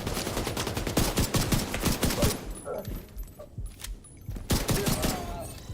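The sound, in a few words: light machine gun fire in The Division 2 video game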